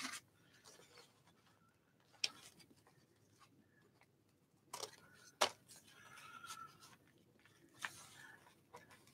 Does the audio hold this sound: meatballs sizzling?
no